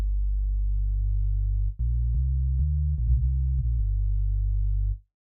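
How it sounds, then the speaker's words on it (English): A deep, steady synthesizer sine-wave sub bass hums continuously, with a brief dropout and a few soft clicks as the pitch shifts before it stops. "I will layer another sine wave an octave up and just turn it down"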